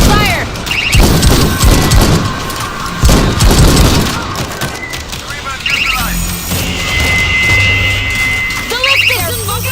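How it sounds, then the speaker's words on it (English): Mortar fire and heavy explosions in the video game World War Z Aftermath, Marseille chapter, with booming blasts and crashes, gunfire and shouted voices in the game over a dense battle din. "Mortar, ready to fire!"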